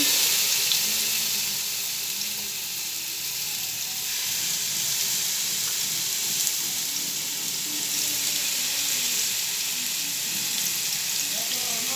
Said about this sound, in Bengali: এতো তেলটা গরম হয়ে গেছে এখন মাছগুলা দিয়ে দিতেছি